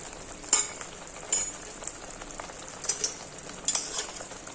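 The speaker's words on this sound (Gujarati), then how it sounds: "ધીમી આંચ ઉપર જ આપણે આ શાક છે તેને સાતળવાનું થશે" Kaju gathiya vegetable curry with spices sautéing on a low flame: a soft, steady sizzle broken by a few brief louder crackles and stirring scrapes, with no talking.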